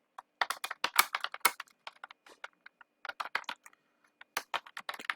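Code being typed on a computer keyboard while writing a Java program, with quick close clicky keystrokes in uneven bursts separated by brief pauses, alone in an otherwise quiet room.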